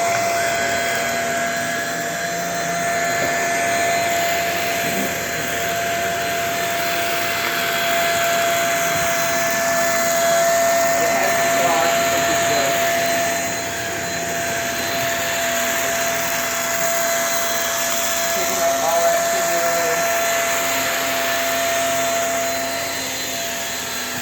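A Shark Rocket vacuum cleaner with a powerhead runs steadily through a big mess test, producing a constant, even whine and airflow roar that barely changes from start to finish.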